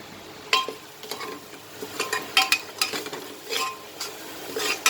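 A spoon stirs turmeric, garam masala and chilli powder into sizzling hot tempering for a jackfruit seed vegetable dish. It gives soft repeated scraping strokes over a faint, steady fry, close and fairly quiet, with no talking.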